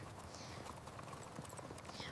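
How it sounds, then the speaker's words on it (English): Horse hooves clip-clop in a quick running rhythm, faint and distant, beneath a soft steady outdoor background. "Run, horse, run!"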